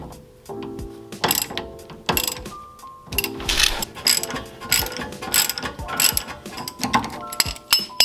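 A hand ratchet clicks rapidly in repeated bursts while undoing a 17mm nut and bolt on the front suspension of a Honda CRX, with metallic clanks between strokes, close and fairly loud.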